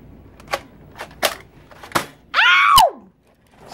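A toy mini gun fires several sharp, separate pops at close range, then a person gives a loud, high-pitched scream.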